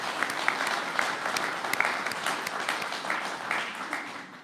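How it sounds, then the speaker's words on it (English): An audience at a state economic development announcement claps in a warm round of applause, steady and moderately loud, fading slightly toward the end. "That is worth a clap,"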